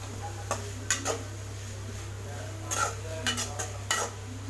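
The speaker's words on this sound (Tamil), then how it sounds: "அப்படியே விட்டுறக்கூடாது, இப்படி கிளறிட்டே இருக்கணும், இல்லைன்னா பிடிச்சிக்கும்." Beetroot poriyal is stirred in a pan with a utensil, giving scattered scraping clinks and short metallic scrapes against a low steady hum and faint sizzle. The strokes are close and irregular, with no talking.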